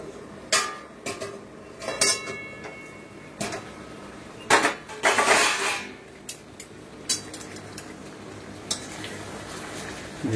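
A cooking pot of goat meat being covered with its lid and pressed down, giving a few sharp metallic clanks and scrapes scattered over ten seconds, close and moderately loud with quiet gaps between.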